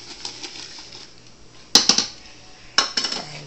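A spoon clinks against a container while washing soda is stirred into very hot water for homemade laundry detergent, with two sharp bursts of quick metallic scraping and tapping over a quiet background.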